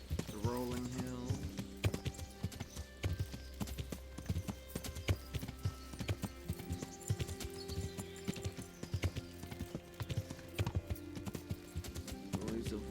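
A horse's hooves clip-clop at a steady walking rhythm along a trail in the video game Kingdom Come Deliverance, close and clear, with quiet game music and an occasional soft snort beneath.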